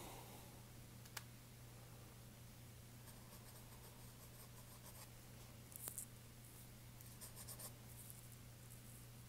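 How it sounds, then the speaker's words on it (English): Faint, soft scratching of a pencil dragged lightly across paper while a hammerhead shark is being drawn, continuous and close over a low electrical hum, with a few small taps and a slightly louder stroke midway. "I'm barely dragging the pencil here."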